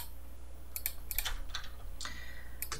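A few quick keystrokes on a computer keyboard typing CMD, light close clicks in a short cluster over a steady low background hum.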